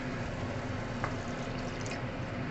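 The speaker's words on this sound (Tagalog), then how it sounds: "Lagyan natin ng water." Water poured into a pan of green long beans during cooking, a soft steady liquid wash with a faint drip, quiet and continuous with no talk.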